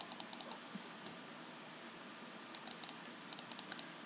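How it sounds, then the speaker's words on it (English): Computer mouse clicks during Minecraft gaming on a server, a quiet run of sharp, rapid clicks in short bursts with brief pauses, fairly close and alone, with no voices. "So sorry about the mouse clicks."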